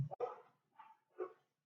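Dogs barking faintly in the background, three short, separated barks at a distance with quiet gaps between them.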